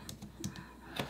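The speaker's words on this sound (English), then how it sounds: "So let's say I'm typing something" Typing on a computer keyboard gives a few quick, close clicks in an irregular rhythm, quiet and without any voice.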